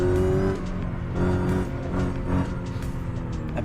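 Supercharged car engine running steadily, with a sustained tonal whine riding over the continuous engine drone as it pulls along.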